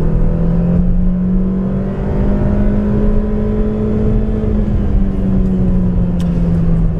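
A 2014 Chevy Sonic Turbo engine revs hard and holds a steady, loud drone while accelerating from 0 to 60 mph, its pitch climbing slowly, heard from inside the car with no talking.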